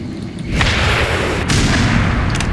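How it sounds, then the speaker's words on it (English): A TOW missile fires and explodes in the video game Black Mesa, a loud rumbling boom with broadband roar swelling and rolling on, with sharp cracks near the middle and end. "there's this fancy smancy tow missile here that is a lot of fun to use"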